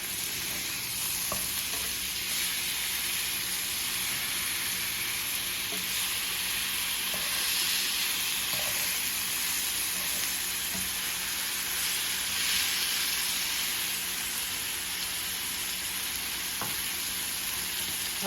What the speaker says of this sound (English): our pork chops is cooking